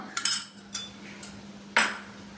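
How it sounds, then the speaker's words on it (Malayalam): Clattering utensil knocks against a pan while a chicken and cheese bun filling is stirred, a few sharp clinks and scrapes over a low steady background hum, with no talking. "ഇത് നല്ലോണം ഒന്ന് ഇളക്കി കൊടുക്കണം"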